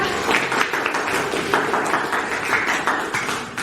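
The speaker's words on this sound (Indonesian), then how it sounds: "Tepuk tangan buat Kaira." Children in an Indonesian classroom clap for a classmate, a brisk uneven patter of small hands that holds steady for a few seconds, with faint voices underneath.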